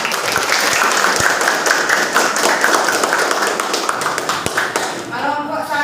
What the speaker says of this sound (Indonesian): Kita tepuk tangan dulu supaya